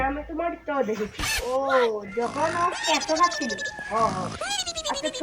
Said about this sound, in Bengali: ছাগলটা আবার কেন ডাকছে?